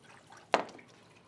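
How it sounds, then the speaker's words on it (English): Water tipped from a carbon filter canister of a GrowoniX GX1000 filtration system into a drain pan, a single short splash, close and fairly quiet, standing alone in an otherwise hushed space. "And then pour the water out if you'd like."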